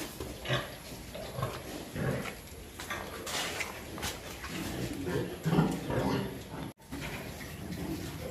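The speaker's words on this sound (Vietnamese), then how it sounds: "đây là cái đàn heo của mình nè." A pen of pigs on a Vietnamese farm, where a breeding sow is giving birth, gives scattered grunts and squeals at irregular intervals over a low background murmur.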